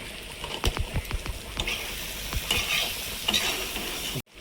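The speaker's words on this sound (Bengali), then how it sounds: "মশলা কষানোর শেষ পর্যায়ে এসে দেবো জিরে গুঁড়ো।" Spice masala for mutton curry sizzles in a pan while a spoon scrapes and stirs it in repeated sharp strokes over a steady frying hiss, close up, before cutting off abruptly.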